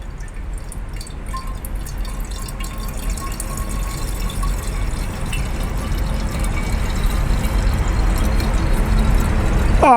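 Ginger beer pours steadily into a soda siphon, a continuous watery rush and trickle with faint drips. The liquid sound grows slightly louder as the vessel fills, with no voices.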